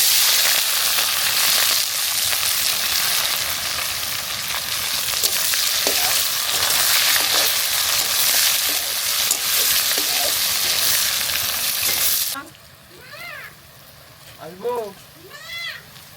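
Whole cumin seeds and chopped onion sizzle loudly and steadily in hot oil for a chicken curry, then the frying drops back sharply, leaving a quieter hiss with faint clinks and a voice.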